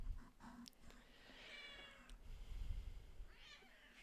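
A cat meows in the evening indoors, two or three short plaintive calls spaced apart, fairly quiet and close, with no talking over them.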